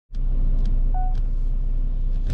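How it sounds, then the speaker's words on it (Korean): A used Chevrolet Equinox SUV engine drones during a test drive, a loud, steady low rumble from inside the cabin that starts suddenly and holds evenly throughout, with no voices. "일단 제가 이 차량 시운전하고 마무리하도록 하겠습니다."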